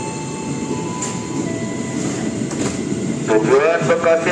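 A 12-car commuter train entering Angke station rumbles and hisses along the rails with a steady high whine, then wheels squeal in rising, wavering tones near the end.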